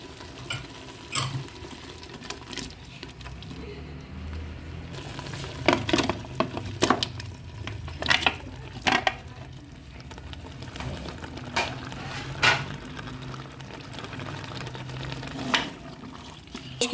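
Ginger garlic paste and tomatoes frying in a pot, with soft sizzling and intermittent scraping stirs from a spoon, close and moderate in loudness without speech.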